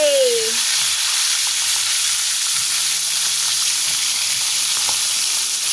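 Bangus (milkfish) frying in hot oil, a steady loud sizzle that fills the whole stretch with no pauses and no talk.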